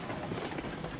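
Train in the RailRoads Online video game with brakes applied, a steady dense rolling rumble and grinding wash of rail noise, continuous and fairly close.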